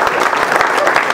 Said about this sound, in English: Everybody give her a round of applause.